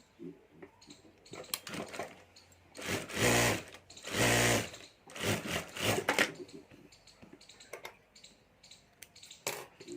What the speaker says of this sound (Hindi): और अब यहाँ जिप के ऊपर भी हमें सिलाई कर देनी है।